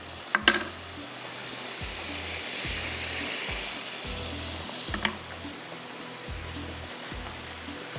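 Potato fries frying in oil on low heat, a steady soft sizzle throughout with a couple of brief clinks of a utensil, fairly quiet and without talk.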